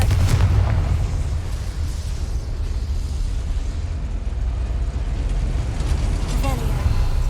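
Confringo fire spell blast in Hogwarts Legacy: a loud booming explosion burst at the start, followed by sustained rumbling low-end effects and game noise throughout.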